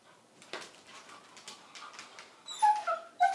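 A German shorthaired pointer puppy on a leash gives quiet scattered whimpers and soft yips, then sharper whining cries near the end, close and mostly alone against a faint background.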